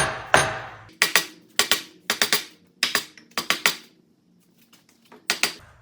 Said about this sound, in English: I'm going to just give a little tap here and there.